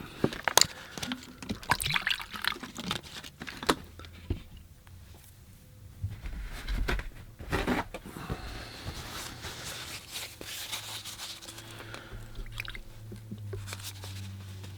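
Fresh water is poured into a painting water bucket, with splashes, squishy sloshing and dripping over about fifteen seconds, close and uneven, with scattered clicks and light handling noises.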